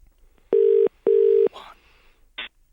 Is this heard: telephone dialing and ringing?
yes